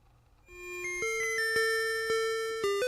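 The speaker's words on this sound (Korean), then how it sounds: "1교시의 종소리가 울렸습니다" An electronic school chime rings to open the first class period, sustained clear tones stepping through a few notes one after another, ringing alone at moderate volume.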